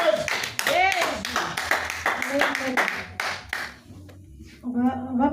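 Church congregation at a French-language worship service clapping in a lively rhythmic burst mixed with voices and shouts, easing off briefly before the voices rise again at the end.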